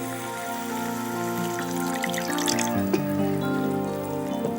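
Half a cup of water poured into cooking masala in a pot, a short trickling splash heard over background music.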